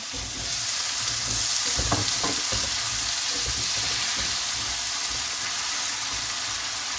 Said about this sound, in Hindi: बटर हमारा अच्छी तरह मेल्ट हो चुका है। अब हम इसमें आलू शामिल कर देंगे।